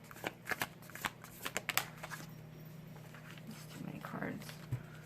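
Tarot cards being shuffled close up in a quiet room, with a run of quick, crisp riffling snaps in the first two seconds, then softer handling sounds and a faint voice.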